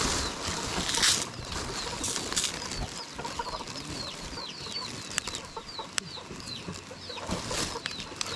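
Chickens cluck repeatedly at a moderate distance, short chirpy calls scattered over a rustling outdoor background.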